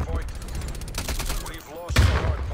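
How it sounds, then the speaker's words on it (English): Strafe-run airstrike gunfire rattles in the Call of Duty Cold War video game, bursts of rapid mechanical shots with a heavier impact near the end, loud and close. "Another strafe run."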